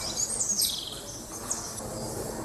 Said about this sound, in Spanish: Los pájaros que pululan por el jardín nunca se van muy lejos